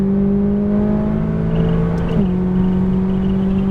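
A McLaren 570S engine drones steadily while driving on a track, a loud, sustained tone that drops briefly as the car shifts before holding steady again, with no talk.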